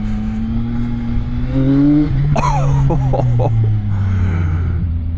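A CFMOTO 675NK motorcycle engine accelerates up close, its loud, steady drone climbing in pitch through the revs with a brief rising whine partway through.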